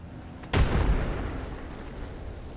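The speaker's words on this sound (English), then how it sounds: "Hit him with the nades. He's low. So low. Running in. Frag out." A frag grenade detonates in the video game Apex Legends: one loud, close, booming blast that decays into a long rumbling tail, with a brief pop just before it.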